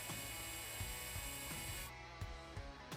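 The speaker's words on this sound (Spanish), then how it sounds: "Con esta máquina podrás taladrar fácilmente madera." A Parkside PABH 20 cordless hammer drill whirs steadily through wood, its motor tone holding with a few brief bumps and changes in load.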